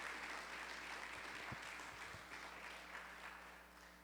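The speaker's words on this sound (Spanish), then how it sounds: "Denle un fuerte aplauso al Señor." A church congregation at a Spanish-language evangelical service claps in praise, a soft, steady patter of applause set against a low background hum and a few thumps.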